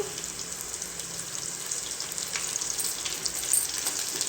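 Curry leaves fry in hot oil with a steady, bright crackling sizzle and scattered pops, fairly close and continuous, with no talking.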